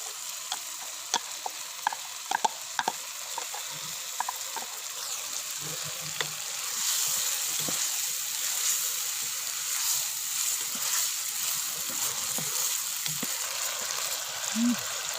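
Boiled urad dal frying with spices in a pan, a steady sizzle with intermittent scraping and clinking of a spoon stirring, moderately close.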